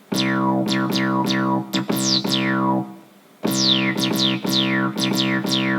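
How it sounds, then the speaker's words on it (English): Bright Sylenth synthesizer plucks with sweeping tones repeat in a quick rhythm, each ringing out into a long reverberant tail, with one brief lull midway. "That's just really good reverb."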